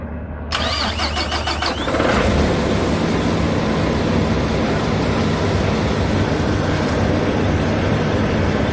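A Peterbilt 579 truck's diesel engine turns over from completely cold, with a quick cranking rattle and then a loud, close, steady rumbling idle that holds alone to the end.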